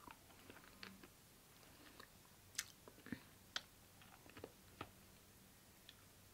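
Japanese candy is chewed and crunched close to the mouth, with soft irregular bites and a few sharp crackles spaced through several quiet seconds, without talking.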